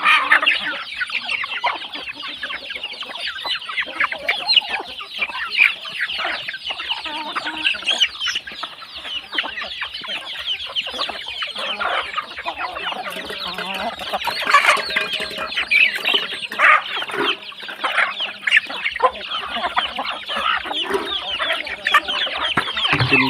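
A flock of Burmese fighting chickens clucks and chatters continuously while being fed unhusked rice in the evening, many birds close by overlapping in a busy, steady barnyard din.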